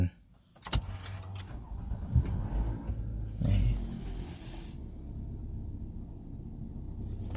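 Push-button start of a 2012 Lexus RX270, with a brief click and whir of the starter followed by a low, smooth idle hum settling in close by while someone talks over it.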